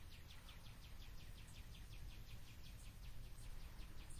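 Faint, rapid high chirping repeats steadily in the distance over a soft outdoor hush, a continuous trilling call.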